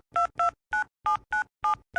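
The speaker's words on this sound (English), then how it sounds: "You call the customer service number on your card." Telephone keypad tones beep one after another, seven short evenly spaced presses of a customer service number, clear and close with silence between them.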